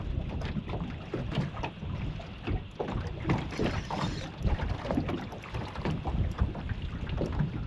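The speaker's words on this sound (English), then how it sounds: "A lot windier than expected too." Wind buffets the microphone on a small fishing boat on Lake Macquarie, a gusty, rumbling roar that rises and falls unevenly throughout, with no talking.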